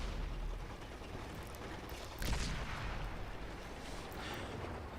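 Tank cannon fire in World of Tanks on Xbox 360, from a Tiger II among M103 and E75 tanks: a single muffled boom cutting through steady engine rumble and battlefield noise, fairly faint and distant.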